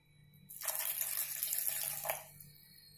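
Water splashes into a mixer jar while making coconut chutney, a close, steady pour lasting about two seconds before stopping abruptly.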